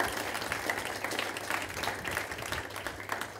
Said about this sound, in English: Round of applause for Steve.